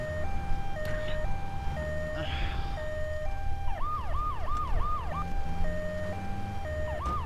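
Ambulance siren in Grand Theft Auto 3, a loud wailing two-tone siren that switches to a fast yelp midway over engine rumble while a voice talks over it.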